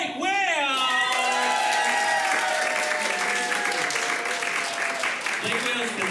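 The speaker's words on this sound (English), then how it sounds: "give a big round of applause to Blake Whale." A large crowd at a live comedy show applauds steadily, with whoops and cheers. A voice shouting over the crowd holds a pitch that rises and falls at first, and the dense, continuous roar of clapping fills the whole stretch.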